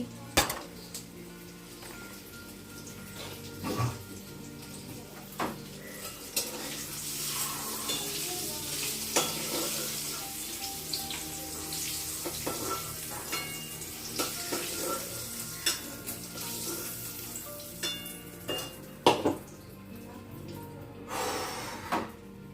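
Whole spices tempering in hot oil for a Bengali curry: a continuous close sizzle and frying hiss with a utensil stirring and clinking against the pan throughout.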